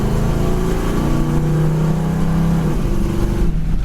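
A 1973 Chevy Nova SS pulls hard as its automatic transmission kicks down, with the engine revving up in a loud, steady roar that drops off abruptly near the end.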